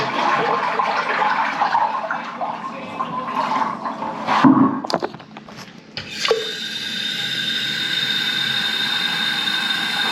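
Sudden rush of water flushing sand down through a drain pipe, a broad continuous gush with a gurgling surge midway, then a steady hiss of flow to the end.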